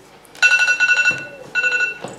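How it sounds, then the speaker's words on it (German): An alarm clock rings indoors in two bursts of rapid, shrill electronic beeping with a short gap between them, loud and close. "das war mein Wecker."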